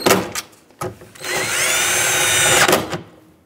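Power drill whirring in a sustained burst as it snugs the mirror mounting nuts on a 2007–2014 Chevrolet Silverado 2500HD, preceded by short clicks and handling noises, loud and close.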